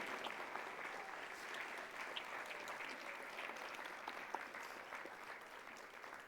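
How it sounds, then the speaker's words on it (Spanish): A church congregation applauds together during a sermon, steady broadband clapping that stays fairly faint and even for the whole stretch, with no words over it. "Le damos un aplauso a Él."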